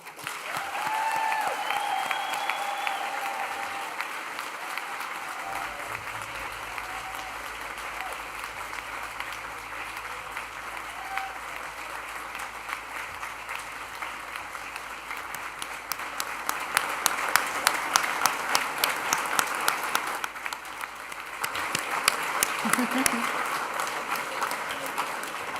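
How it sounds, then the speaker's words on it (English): Graduates and guests at a university graduation ceremony applaud in a long, sustained round of clapping that builds louder in the second half before easing, with a few stray voices underneath. "let's celebrate with a huge round of applause"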